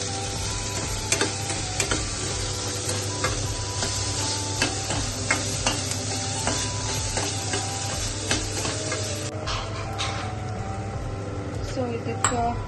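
Salt and a little sugar fry in a pan while being stirred before rava goes in, producing a constant sizzle with rapid, rattling scrapes and clinks of the spoon against the pan.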